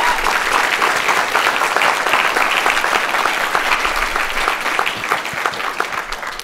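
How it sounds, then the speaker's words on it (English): A conference audience applauds at the end of a DevOps talk. The dense, sustained clapping fills the room and tapers slightly toward the end. "Round of applause."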